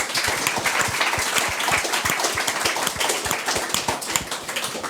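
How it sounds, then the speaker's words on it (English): Applause from a small audience after a venture-capital panel discussion on fully homomorphic encryption at a conference workshop; close, distinct individual claps form a brisk, fairly loud patter throughout. "Everyone give them a round of applause."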